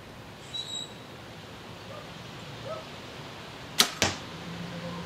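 A Winchester Black Horse compound bow fired at 20 yards without a stabilizer: two sharp, close snaps in quick succession, the release followed by a second crack, over steady outdoor hiss.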